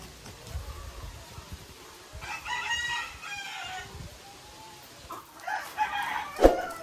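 Layer chickens inside a poultry layer building, with soft clucking and a few bird calls scattered through a quiet, airy room and one sharp louder call near the end, no talk over them.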